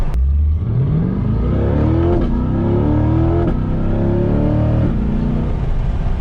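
A C8 Corvette with an aftermarket exhaust revs hard and accelerates up through the gears, a loud close engine roar with rising pitch and brief shift breaks.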